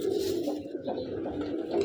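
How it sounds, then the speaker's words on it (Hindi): Soft, low slate-grey pigeon cooing close by, a rolling throaty murmur that rises and falls over a couple of seconds. "माशाल्लाह स्लेटी कबूतर है, कबूतर बड़ा ही शानदार है"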